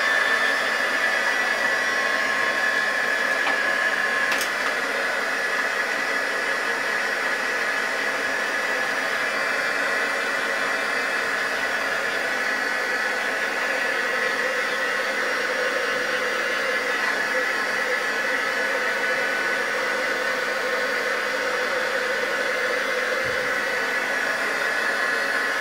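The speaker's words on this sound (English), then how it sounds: "Now with your hot gun," Heat gun drying dauber ink dots, a steady loud blowing hiss that runs unbroken throughout, close and even, with no talking over it.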